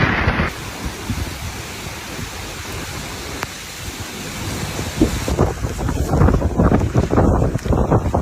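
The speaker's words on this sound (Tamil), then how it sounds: "கடுமையான காத்து அடிச்சுக்கிட்டு" Strong cyclone wind buffets the microphone at Pamban bridge near Rameswaram, a steady roaring rush that swells into heavier, gustier blasts in the second half, with a surf-like wash underneath and no voices.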